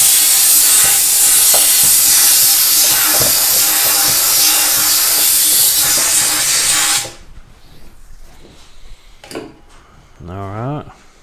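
A compressed-air blow nozzle stuck into the top of a generator's gas tank gives a loud, steady, close hiss for about seven seconds. It cuts off abruptly, leaving faint handling clatter and a brief voice near the end.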